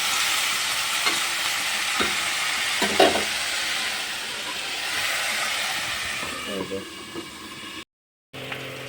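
Steady sizzling of food in a pan with occasional scraping stir strokes, a few soft bumps and clatters, continuous and close.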